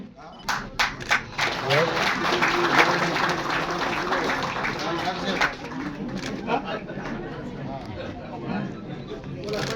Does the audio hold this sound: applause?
yes